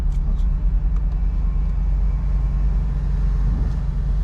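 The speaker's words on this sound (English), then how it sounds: "I can actually change the freaking sound of the freaking car." A 2022 Chevy Corvette C8 Stingray sits with its engine running, giving a steady, deep low rumble close by, even in level, with no revs or voices on top.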